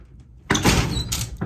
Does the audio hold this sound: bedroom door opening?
yes